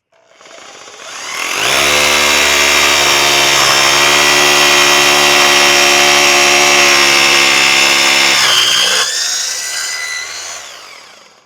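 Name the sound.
Bosch Bulldog Xtreme rotary hammer drill drilling concrete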